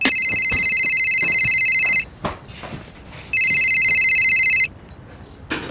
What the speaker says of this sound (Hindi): आई प्लीज फोन घे ना।